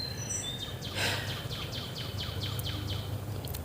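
Birds sing outdoors on a pleasant day, a series of short, repeated chirps that are fairly faint over a quiet background hum.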